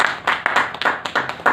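An audience at a business presentation claps in a quick, even rhythm of sharp bursts about five per second, loud and close throughout the short stretch.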